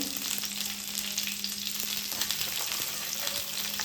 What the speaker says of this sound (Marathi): आणि आपले काजू हे व्यवस्थितपणे आपल्याला फ्राय करून घ्यायचे.